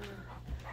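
A dog whines and gives a short yip indoors, asking to go outside while it rains, brief and faint, with quiet background hum.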